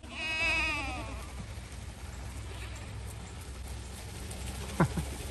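A goat bleats at the start in a wavering, drawn-out cry, followed by steady outdoor rumble and a brief knock near the end.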